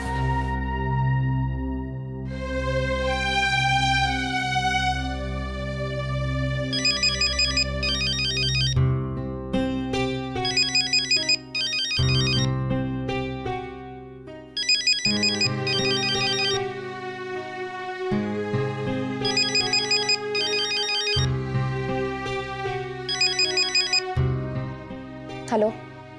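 A mobile phone ringtone plays a repeating melodic tune in loud bursts for a long stretch, separated by brief pauses, ringing on until someone answers.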